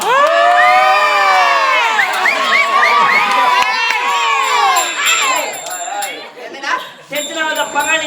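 Someone shouts loudly during a Tamil stage comedy drama, his high voice rising and falling among many other shouting, cheering voices in a noisy, close crowd.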